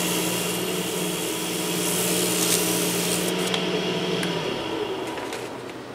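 Sandpaper wrapped over a sponge rubs steadily across a wooden top. It makes a continuous broadband abrasive hiss that swells slightly midway and stays close and loud, with no talk.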